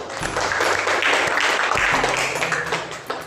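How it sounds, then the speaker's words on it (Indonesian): A classroom audience claps for a moment, a dense burst of hands lasting about three seconds, close and fairly loud, with a low hum underneath. "tepuk tangan buat kita semua"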